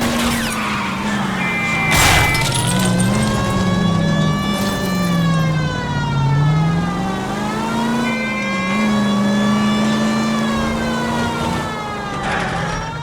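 Loud wailing siren rising and falling over a revving engine during a 1947 car chase in the video game L.A. Noire, sustained and close, with no talking.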